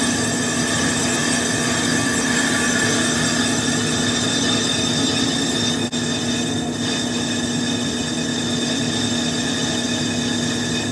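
A lathe cuts a Ford Powermax turbo turbine part at low RPM, about 280, giving a steady, loud machine hum with constant tonal whine and no breaks, heard alone.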